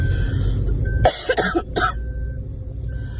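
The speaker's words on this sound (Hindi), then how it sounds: "इतनी खांसी आ रही कुत्ते वाली ना, जिसकी कोई हद नहीं।" Heavy coughing from someone with a bad illness at a crowded vegetable and fruit market, one rough burst of several harsh coughs up close, then steady market hum.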